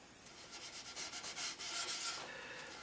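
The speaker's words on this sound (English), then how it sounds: "rub against the grain to start off with so that you get the material into all of the pores" A wooden picture frame has finish rubbed into it against the grain, making soft, steady scrubbing strokes with a breathy, papery texture that rise and fall in quick repeated passes, quiet and close.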